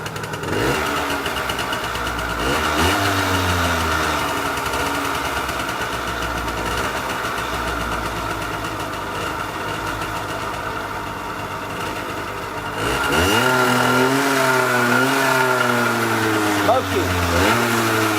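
A SIS V5 motorcycle with a Sachs two-stroke engine fires on the first kick and settles into a steady, close, buzzing run that revs up near the end, with voices speaking over it.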